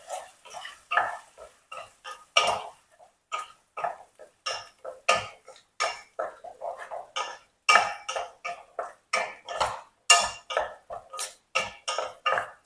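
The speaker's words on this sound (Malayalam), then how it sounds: "നമുക്ക് ഇളക്കാം." Dragon chicken stirred in a pan: a close series of sharp, irregular scraping and clattering strokes of a utensil against the pan, each separated by brief quiet gaps, continuing throughout.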